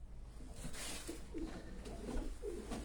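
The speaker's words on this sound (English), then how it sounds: "he's a very aggressive pigeon" An alert, aggressive racing pigeon cock that has flown the nationals coos softly several times in short bursts over a steady background hum.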